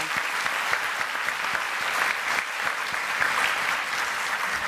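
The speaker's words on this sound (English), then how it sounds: "can we give them a big round of applause for putting this on?" A big round of applause from a conference audience at the 2018 Positive Business Conference, steady and dense clapping throughout at an even, fairly loud level with no break.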